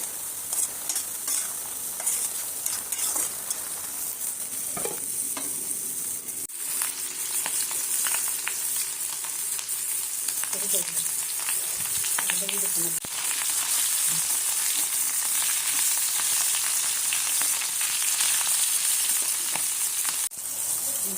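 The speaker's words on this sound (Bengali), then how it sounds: "এদিকে করলা ভাজি হচ্ছে, আর এদিকে তরকারি কষাচ্ছি।" Steady oil sizzle of bitter gourd frying in a pan alongside a curry being stirred, with intermittent scraping of a spoon, continuous and fairly close.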